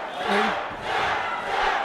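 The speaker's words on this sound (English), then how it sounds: "The crowd is deafening right now." A packed crowd roars and cheers at a Cage Titans MMA fight, a loud, sustained wall of voices swelling in waves throughout, with shouts rising above the din.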